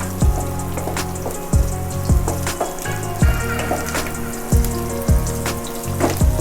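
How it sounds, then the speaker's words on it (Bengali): Chopped green chilli and onion fry in oil with a continuous close sizzle, while a utensil clinks and scrapes against the pan at a steady rhythm. "কাঁচা লঙ্কা কুচি দিয়ে পেঁয়াজ কুচি দিয়ে ভালো করে ভেজে নেব"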